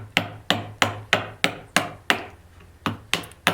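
A hammer strikes a chisel cutting through a knot in wood, about a dozen sharp, evenly spaced taps with a brief pause near the middle, close and clear with nothing else heard.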